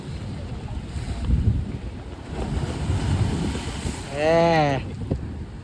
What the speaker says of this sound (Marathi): आता कसं पाणी उडेल बाई